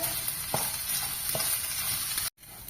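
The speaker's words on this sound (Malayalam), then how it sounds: "അരി ഇട്ടൊന്ന് വഴറ്റുക" Rice sautéed in a pan with shallots, garlic and ginger for coconut rice, crackling in a continuous close sizzle with a few sharp stirring clinks, no voices, and a short gap near the end.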